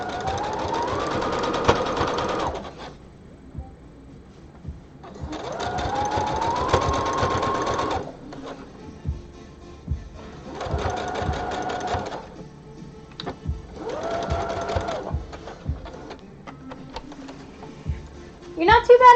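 A sewing machine runs in repeated bursts of steady whirring, several seconds each, separated by short pauses, close and fairly loud, during a sewing session.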